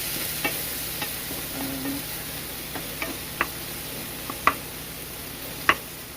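Shrimp and vegetables sizzle steadily in a pan on an induction cooktop, a close, even frying hiss punctuated by regular sharp clicks and scrapes of a utensil stirring, with no talking.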